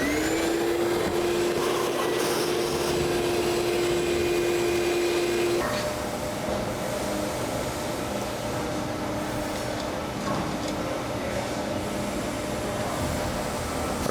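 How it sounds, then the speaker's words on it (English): A shop vacuum cleaner sucking up metal shavings from a Predator kart engine build, a loud continuous roar with a steady whine that drops in pitch partway through, alone without talk. "I'm going to get the vacuum."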